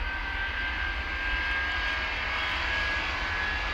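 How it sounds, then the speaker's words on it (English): Jet airliner engines roar steadily at takeoff power in an airport control tower game, a broad continuous rumble with a thin whine on top, loud and unbroken with no talk. "I love that growl of them engines."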